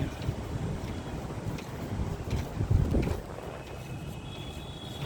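Passenger launch boat approaching on a river, its engine a steady low rumble under continuous wind buffeting the microphone, with a brief louder swell near the middle.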